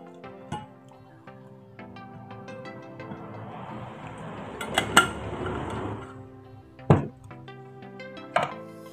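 Garlic stirred into hot water in a glass: a spoon rings and clinks against the glass in a few sharp taps, with a swirling wash of liquid in between, close and quiet.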